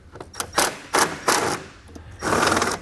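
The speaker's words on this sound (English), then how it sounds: "We'll then remove the stud with a 10mm socket." A socket wrench with a 10mm socket ratchets to remove a stud during installation of a Roadmaster InvisiBrake flat tow brake system, producing several close, quick bursts of clicking in short strokes.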